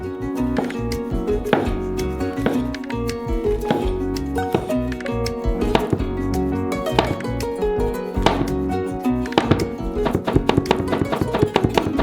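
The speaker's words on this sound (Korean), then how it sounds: "가열하는 동안 버섯을 썰어요." A knife slices mushrooms rapidly and steadily on a cutting board, crisp repeated taps in an even rhythm throughout.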